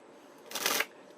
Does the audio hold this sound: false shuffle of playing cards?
yes